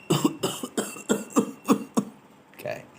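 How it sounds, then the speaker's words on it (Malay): A person coughs repeatedly, about seven sharp close bursts in an even rhythm over roughly two seconds, followed by a softer throat-clearing sound. "Batuk."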